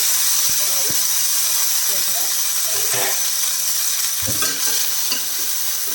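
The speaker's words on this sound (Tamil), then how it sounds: "நல்லா வதக்கட்டும் வெங்காயம்" Small onions, with a little ginger, sizzle and hiss loudly in a hot pan for ash gourd chutney, with steady frying and occasional stirring scrapes.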